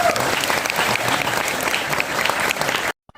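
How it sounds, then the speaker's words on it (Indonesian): A crowd claps and cheers steadily for about three seconds, dense and loud, then cuts off abruptly into silence. "Tepuk tangan buat"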